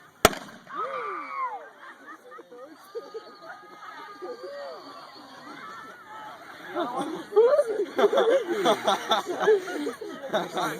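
Potassium burning and bursting, with a sharp snap at the start and rapid loud crackling pops building near the end, mixed with excited shouting, whoops and laughter from several people.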